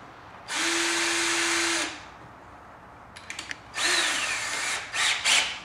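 A cordless power drill whirs in two short bursts, driving a bolt through a washer into a Club Car golf cart's aluminum diamond plate rocker panel, with light clicks and handling noise in between.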